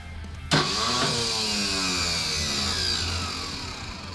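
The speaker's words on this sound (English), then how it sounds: "I just rigged up a button to 2 wires, and it gave us the ability to easily turn the car over." A BMW E23 fitted with a new starter cranks after a sharp click, its starter whirring steadily and close for several seconds without catching.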